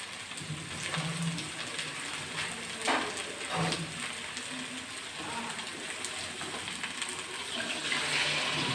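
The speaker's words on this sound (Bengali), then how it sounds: "এবার জল দিয়ে দেবো।" Water is poured into a cooking pan of spices and turmeric, making a steady splashing pour throughout that grows louder near the end, with no talk.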